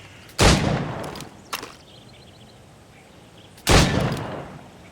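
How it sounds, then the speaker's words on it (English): Gunshots at targets in Assassin's Creed Rogue: two loud, sharp reports about three seconds apart with a fainter pop between them, each trailing off in a short echoing decay. "Go on. Shoot these targets."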